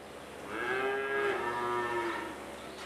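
Dairy cows moo on a farm at milking time, long drawn-out lowing calls overlapping one another, loud and near over a steady background of barn noise.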